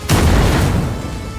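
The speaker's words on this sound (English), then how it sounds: "I'm just gonna throw a fucking grenade in on this." Close, loud grenade blast in a Warhammer 40k shooter, one heavy boom with a deep low rumble that decays over about a second, with no talk over it.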